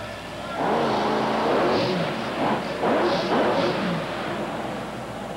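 The Grave Digger monster truck, driven by Dennis Anderson, revs its engine loudly on a Minneapolis Metrodome arena floor, swelling in repeated surges while a crowd roars and commentators talk.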